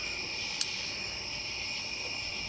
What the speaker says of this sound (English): Oh, we have frogs outside.